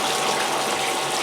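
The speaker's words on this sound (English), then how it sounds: "this little bit of water dripping off the edge here" Water runs steadily off the edge of a small gold dredge used for black sand cleanup, a continuous close splashing trickle with no pauses.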